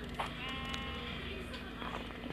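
Sheep in the Minecraft video game give short, faint bleats over a steady low hum of game ambience, with a voice partly speaking nearby.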